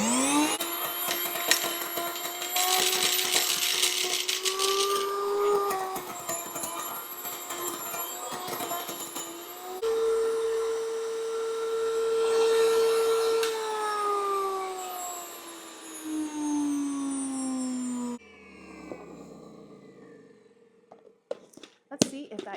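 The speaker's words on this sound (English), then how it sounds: "So these are, again, dry chickpeas, and I am just going to grind a small handful down" Small countertop grain mill grinding a handful of dry chickpeas into flour, a loud steady high-pitched motor whine that rises and shifts in pitch as the beans break down, then cuts off and winds down with a few faint clicks.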